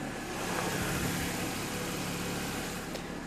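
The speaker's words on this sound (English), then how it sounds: "This engine does run great." The engine of a 2009 Mercedes C300 automatic runs at a steady, low, faint hum, heard alone without talk.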